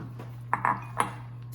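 Room-temperature toasted walnuts are stirred in a bowl for banana walnut bread, giving three quick, light clinks close by over a faint steady hum.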